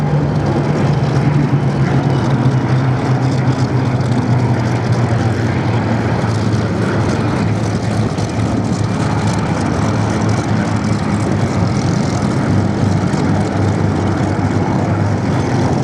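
A WWII Battle of Britain propeller fighter flies over the Duxford Flying Legends airshow, its engine a loud, steady droning roar that holds throughout with a low rumbling hum.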